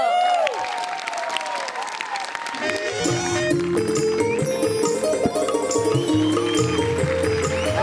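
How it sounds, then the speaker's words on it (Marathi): Loud, steady audience applause welcoming a comedy duo onto the stage of a Marathi TV comedy show, filling the whole stretch with dense clapping while a crowd murmurs and music swells in beneath. "जोरदार टाळ्यांनी स्वागत करूया"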